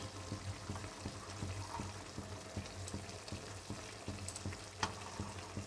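Ghee sizzles and fries in a pan as Bengali mocha ghonto is cooked with coconut, a soft, steady crackle with light rhythmic stirring scrapes and no talking.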